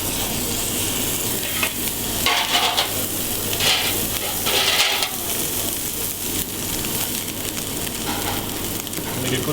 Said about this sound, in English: So we almost only fry the outside.